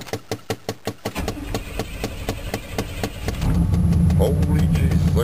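An old truck engine cranks in quick rhythmic turns, then catches and settles into a rough, louder idle, with a voice briefly speaking nearby.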